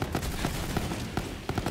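An electric gun with heavy recoil fires rapidly in Borderlands 3, a dense stream of close, punchy shots in quick succession without pause.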